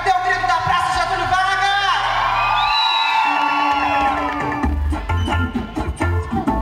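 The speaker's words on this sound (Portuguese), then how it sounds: "Cadê o grito da praça, Getúlio" A crowd at a live outdoor concert in Praça Getúlio Vargas, Araguari, closing a food festival, shouts and cheers loudly, mixed with a singer's voice and pounding music.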